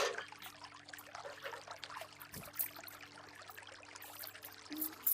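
Water trickles and pours steadily into a drinking vessel for a child, a faint, continuous liquid stream with no talking.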